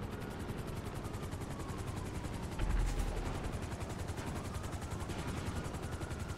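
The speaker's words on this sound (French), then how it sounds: "Qu'est-ce que c'est que cet hélicoptère qui nous a sorti, Corazif, encore?" A helicopter in GTA V Online drones with a rapid, rhythmic rotor chop under gunfire-like bursts, with a louder thump midway through a sustained, moderately loud wash.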